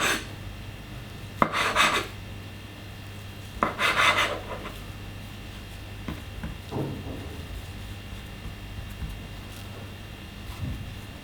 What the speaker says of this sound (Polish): to kroimy porcje naszych serniczków